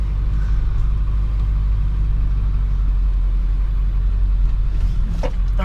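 Deep, steady diesel rumble from a 7.3 Powerstroke truck fitted with a PHP Hydra chip, close and loud throughout with little change in pitch, plus a brief higher rattle near the end.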